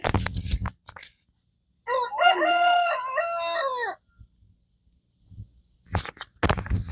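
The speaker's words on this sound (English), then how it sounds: "such a pretty bird" A bird gives a loud, close, harmonic crowing call lasting about two seconds, framed by brief knocks and handling noises on either side.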